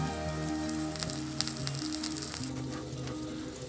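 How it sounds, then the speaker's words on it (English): A spoonful of waterfowl potsticker filling sizzles steadily in a hot pan on the stove, a close, continuous frying hiss with small pops over a low tonal hum. "I have a pan heating on the stove that I'll plop it into to cook it"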